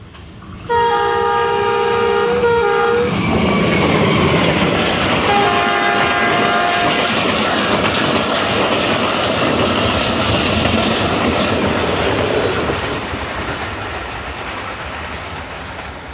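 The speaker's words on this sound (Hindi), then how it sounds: "स्पीड तो अच्छी है, मालगाड़ी होने के चांस बिल्कुल भी नहीं है। 94 किलोमीटर पर आवर पे है जी, और ZSU30 लीड कर रहा है।" A passenger train led by a ZSU30 locomotive near Lahore sounds two loud horn blasts, then thunders past up close at about 94 km/h with a sustained roar and clattering wheels, fading slightly at the end.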